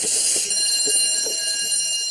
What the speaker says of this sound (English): The fire alarm appears to go off with no normal explanation.